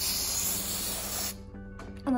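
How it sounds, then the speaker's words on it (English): A can of edible pink spray paint hisses steadily onto a cupcake for about a second, then stops, leaving a quiet room with small handling noises. "Now, I am going to add this like little spray paint I have to eat."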